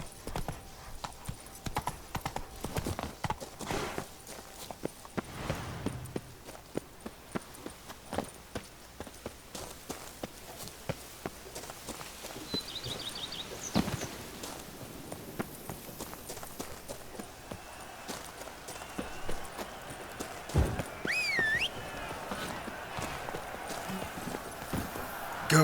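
Roach the horse's hooves clop in The Witcher 3: Wild Hunt, with a long run of quick, moderate hoofbeats, a brief whinny, and occasional talking over the top.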